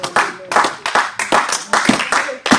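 Rhythmic hand clapping in a church as the congregation acclaims the word of God, about eight sharp, loud claps in a steady beat with voices mixed in underneath.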